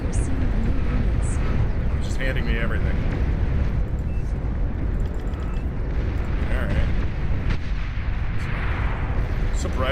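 Bombing runs in the strategy game Beyond All Reason: dense rumbling blasts and booms pile up without a break, a heavy artillery-like barrage under talk.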